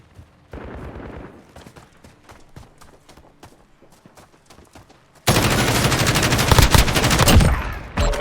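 Gunfire in a video game: scattered sharp shots give way to a loud, dense burst of rapid automatic fire near the end.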